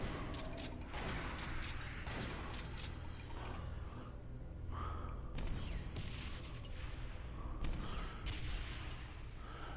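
Repeated bursts of weapon fire in Brutal Doom 64, with rocket launcher blasts mixed into a dense, busy stretch of sharp bangs and booms.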